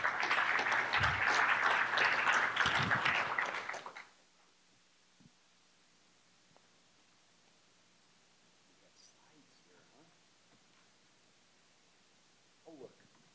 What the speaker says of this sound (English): Let's give a great round of applause for Yoko.